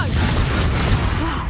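A Confringo explosive spell blasts in Hogwarts Legacy, a loud, dense, booming burst that fills the whole moment, with a shouted voice mixed into the roar.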